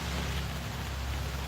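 Rain falls steadily in a dense, even hiss during an outdoor evening shopping trip, with no voices over it.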